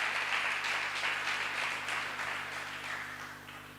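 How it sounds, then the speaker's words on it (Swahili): A church congregation applauds together with sustained, rhythmic clapping in a reverberant room, steady and moderately distant, slowly fading, over a low electrical hum. "Tupigie Bwana Yesu makofi mazuri."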